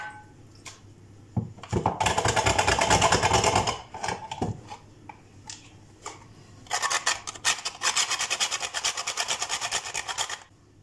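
Garlic and an onion are grated by hand in a kitchen, heard as rapid rasping scrapes in two long bursts separated by a short pause, close and loud.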